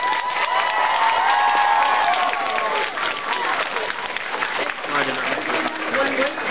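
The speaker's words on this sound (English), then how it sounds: "So give them an extra round of applause for doing that." Audience applause and cheering at an anime convention cosplay contest, honoring beginner-class contestants; sustained dense clapping and crowd noise fills the hall, with some voices mixed in toward the end.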